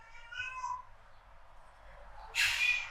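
A cat meows faintly indoors, a soft rising mew near the start followed by a louder, sharper meow near the end.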